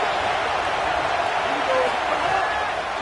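Stadium crowd in the College Football 27 video game gives off a steady, loud roar that fills the whole stretch without a break.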